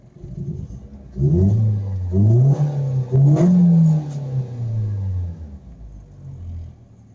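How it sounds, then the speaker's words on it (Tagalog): A car engine starts and idles while warming up, revving a few times before settling into a steady rumbling hum that gradually fades, with no talking; the engine has an idle-up problem. "Obserbahan natin siya mga piston hanggang sa uminit yung makina."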